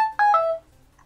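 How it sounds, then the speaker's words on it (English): A phone reminder alert sounds as a short, bright electronic chime of a few quick descending notes, loud and close, then fades into quiet. "It was a reminder on my phone to talk about the manual."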